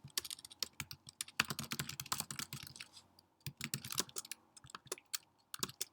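Rapid, uneven bursts of clicking keystrokes on a computer keyboard as code is typed, close and clear with short pauses between runs.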